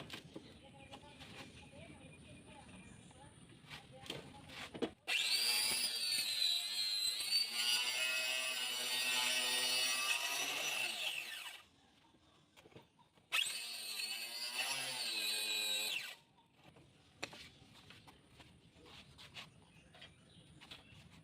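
Power tool cuts through a small piece of plywood indoors at home, two loud sustained bursts of saw whine with a pause between, bracketed by quiet stretches of background and talk.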